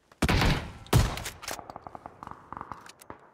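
Two loud sharp gunshot bursts ring out in PUBG, followed by a quick series of lighter clicks and thuds, like rapid footsteps.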